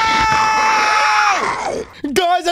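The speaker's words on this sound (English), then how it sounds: "I think I heard Gooby scream" A character in a Minecraft animation lets out a long, loud, falling scream, followed by a short burst of another voice shouting.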